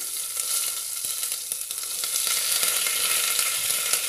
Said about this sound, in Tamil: இப்போ இதில் கொஞ்சம் நாங்கள் எடுத்து வச்சுருக்கிற சீரகத்தில் பாதி சீரகம் போடலாம்.